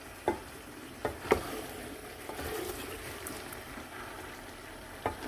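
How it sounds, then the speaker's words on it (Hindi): Potatoes stir-fry with green chilies and cumin in a pan over medium heat, giving a soft, steady sizzle broken by a few sharp scrapes and taps of a spoon. "थोड़ी सी आग तेज़ करके दोबारा से स्टर फ्राई करेंगे।"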